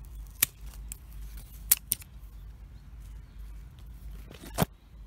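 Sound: scissors cutting side shoots of summer vegetables

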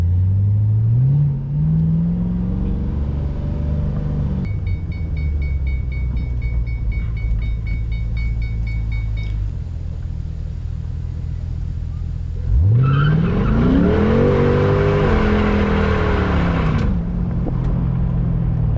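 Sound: Mustang and dirt bike drag race

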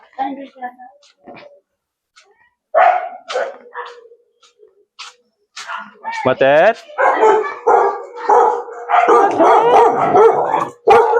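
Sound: dog barking

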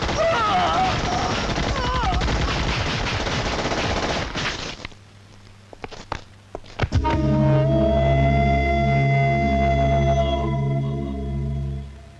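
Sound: gunfire

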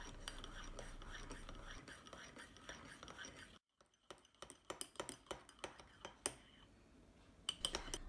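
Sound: spoon stirring coffee paste in a cup

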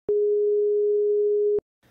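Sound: 415 Hz sine wave tone

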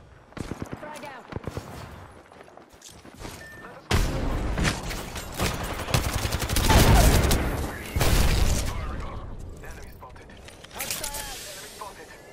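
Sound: frag grenade thrown and exploding in a video game

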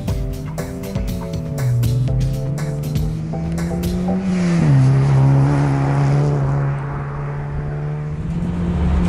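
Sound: modified Toyota Yaris racing laps at Curborough sprint course

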